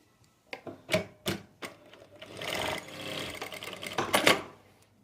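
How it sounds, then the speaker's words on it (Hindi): A sewing machine stitches a seam on a tulip salwar with a half-inch margin, sounding in short bursts of rapid clatter, then a longer continuous run, recorded close with no talking. "1/2 इंच का मार्जिन देते हुए सिलाई लगा लेंगे।"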